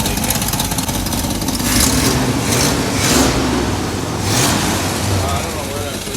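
A square body short box 4x4 truck engine running with a leaking exhaust collector, a loud continuous rough rumble with slight rises and falls, close by.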